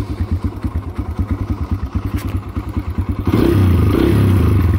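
A dirt bike engine chugs in a rhythmic, thumping idle up close, then revs up loud and steady as the bike rides off.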